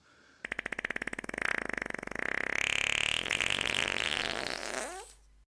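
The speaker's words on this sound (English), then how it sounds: "I heard a fart noise." A long, loud fart noise starts as a rapid sputtering flutter, swells into a sustained buzzing blare, then bends upward and trails off abruptly near the end, with no speech.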